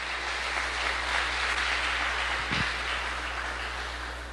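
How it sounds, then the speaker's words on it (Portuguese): Applause from a church congregation, a steady broadband wash of many hands clapping that holds for several seconds with a low hum beneath. "Dê uma linda salva de palmas ao Senhor em nome de Jesus."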